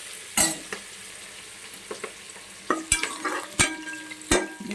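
Chicken frying in a pan with ginger garlic paste, a soft sizzle beneath sharp, irregular clanks and scrapes of a spoon against the pan.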